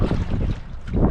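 Strong wind buffets the microphone in heavy, low rumbling gusts, rising and falling over a second.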